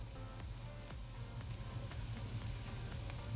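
Garlic and curry powder sizzle steadily in a hot pan while being stirred, a continuous close frying hiss with faint scraping ticks, no talking.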